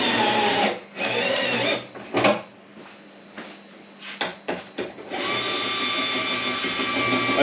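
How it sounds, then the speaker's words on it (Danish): A power tool whirs in loud sustained runs, driving screws to fix legs onto 60-litre feed barrels, with short stuttering bursts and pauses in the middle before a long steady run resumes. "Skruer dem godt til, så benene er stabile og står godt."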